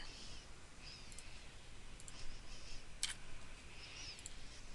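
Faint, sparse clicks of a computer mouse tick over a low steady background hiss, a few isolated presses spread across the stretch.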